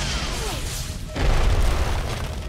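A missile barrage in the video game Costume Quest, with a descending whistle, then a sudden heavy boom and rumbling blast that carries on loudly to the end.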